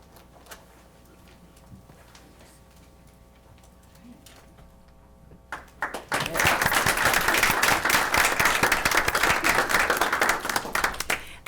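Enthusiastic applause for retirees standing at a school district board meeting breaks out midway and continues loud and dense to the end, following a quieter stretch of room tone with faint ticking.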